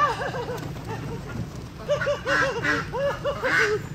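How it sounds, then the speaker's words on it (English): Several domestic ducks quack in short repeated bursts while being fed, fairly close and loud, with rain-like noise in the background. "feeding my ducks"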